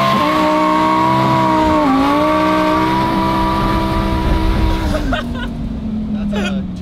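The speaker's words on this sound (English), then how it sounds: "That's a 200 foot burnout into third gear." A rebuilt Ferrari tuned for a burnout roars loud and steady as it spins its tires into third gear, engine pitch holding high then stepping down with a shift, with a voice talking over it.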